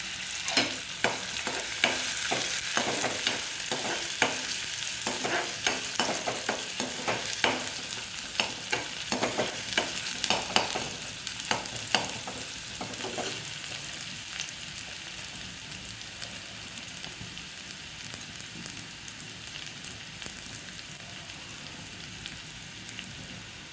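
Onion fries in a pan with crushed garlic, green chili, salt and turmeric, giving a continuous close sizzle punctuated by rapid, rhythmic stirring scrapes that thin out into a calmer crackle toward the end.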